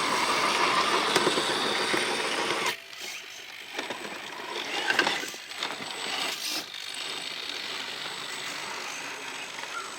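A 1/6 scale belt-driven Capo Sixer 1 4x4 RC crawler working along a muddy off-road trail, its electric motor whining steadily with brief surges and soft clunks, close and moderately loud.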